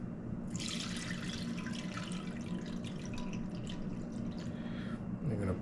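Duck drippings being poured through a cheesecloth strainer, a soft continuous trickle and splash of liquid, close but quiet, with a faint low hum underneath and no talking.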